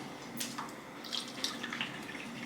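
Water trickles and splashes faintly as it is poured into a cup in a home kitchen during idli and sambar cooking, a soft uneven liquid patter with small drips throughout.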